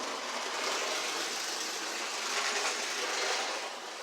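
A K-Line model train engine runs steadily along layout track, giving a continuous broadband whir and rumble at an even level, close by, with no talking.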